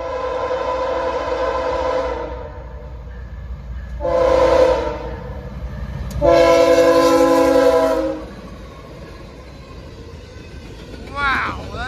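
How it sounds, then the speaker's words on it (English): Norfolk Southern locomotive 8114 leading an eastbound freight sounds a loud, close multi-chime horn in repeated blasts, one short and one long, over steady rumbling engine and rail noise, with excited voices exclaiming. "NS22M eastbound, led by 8114, with an absolute badass horn"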